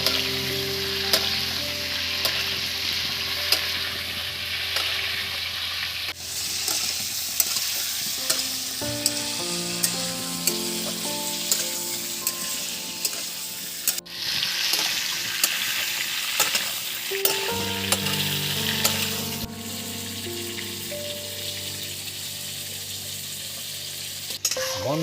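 Pointed gourd (potol) frying in oil in a pan, a steady loud sizzle with stirring scrapes throughout, along with a faint background tune and no talking.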